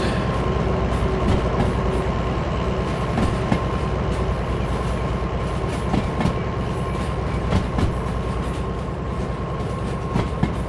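A train rolls along in the Derail Valley VR game, giving a steady loud rumble with rhythmic clickety-clack wheel beats over rail joints throughout.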